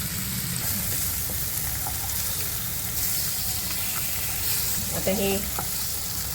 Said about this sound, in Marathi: त्याला छानपैकी दुसऱ्या बाजूनी पण फ्राय करते आहे बटरमध्ये।